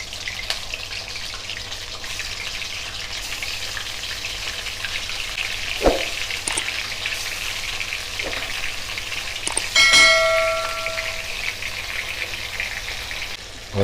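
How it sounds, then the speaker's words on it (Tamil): Washed, unmarinated chicken pieces frying directly in hot oil for kadai chicken karahi, a steady close sizzle with a few louder crackles and spatters partway through, no talking. "எண்ணெய் சூடாயிடுச்சு. இப்போ வந்து சிக்கனை டைரெக்டாக அதில் போட்டுருங்க."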